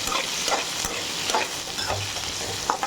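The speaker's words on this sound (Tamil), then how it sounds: "பாருங்கள், நல்லா காயெல்லாம் வதங்கிட்டு போகிறோம்." Brinjal and potato pieces frying in oil in a pan, a steady close sizzle with occasional stirring scrapes, continuous throughout.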